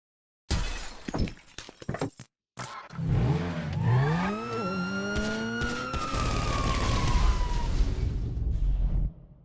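A car is driven around in Grand Theft Auto V, engine revving with rising and falling pitch sweeps after a burst of crashing, shattering glass, running loud and steady to the end.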